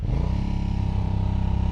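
An Aprilia Dorsoduro 750 motorcycle engine pulls hard under load, a loud, close, throbbing drone with a rapid pulsing rhythm and no talk.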